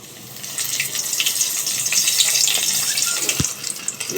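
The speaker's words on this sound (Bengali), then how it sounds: "তেলটা আমার গরম হয়ে গেছে, তেলের মধ্যে আমি দিয়ে দিচ্ছি এগুলোকে।" Corn pakoras coated in cornflour batter drop into hot oil and fry with a steady, loud crackling hiss, with no voices over it.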